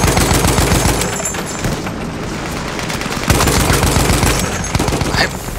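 Rapid, loud automatic gunfire in the World War I shooter Battlefield 1, bursts repeating close up with brief gaps between volleys.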